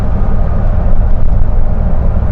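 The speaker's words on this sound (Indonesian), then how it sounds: "Ini suara mesinnya" A steady, loud low-pitched bus engine rumble heard from the rearmost seat near the engine of a sleeper bus, droning continuously with a constant vibrating hum, up close with no talking.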